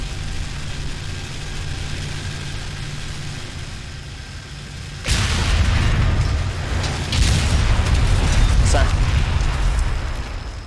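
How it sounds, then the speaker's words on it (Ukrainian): Abrams tank cannon fire in the Combat Mission battle game booms abruptly midway, followed by a sustained loud rumble with a second blast, after a quieter stretch of engine and ambient noise. "Зараз ще два постріли здійснять наші Абрамси."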